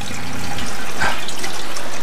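Steady broadband hiss of hot water pouring from a tap on a boat, fed from the boat's water tank and heated by an 800 W water heater, close and fairly loud, continuous throughout with no talking.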